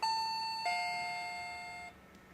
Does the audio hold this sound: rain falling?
no